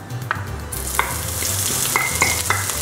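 Sliced red onion frying in hot oil in a wok, a continuous close sizzle with a few sharp metallic utensil taps and scrapes scattered through it, no voices.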